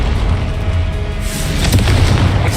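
A Confringo spell blast from the Hogwarts Legacy video game erupts as a loud, heavy boom with a rumbling low roar, swelling midway and sustained to the end, with no voices present.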